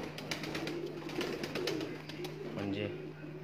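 Kamangar pigeons coo in low, throaty rolls close by, with a voice speaking over them and a steady electrical hum beneath.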